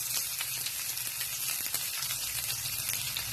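Sliced onions sizzle in hot oil in a frying pan while cooking Filipino adobong takway, a steady close crackling hiss throughout with no talking.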